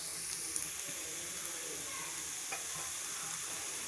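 Egg and grated carrot stir-fried in a pan for homemade egg fried rice, a steady soft sizzle with a few faint scraping stirs, close and alone with no talk.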